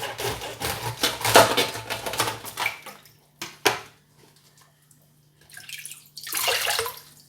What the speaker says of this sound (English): put cold water in the sink, and I'm going to add a good amount of salt and give that a good mix